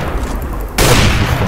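Loud, dense bursts of gunfire in the video game Counter-Strike Global Offensive, a rapid fusillade that grows heavier halfway through, with no speech over it.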